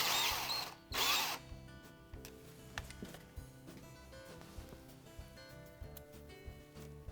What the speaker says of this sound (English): Drill out the existing hole